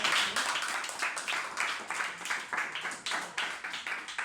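A small group at a private school reading club semifinal claps for the four finalists, a brisk, fairly even run of individual handclaps close by.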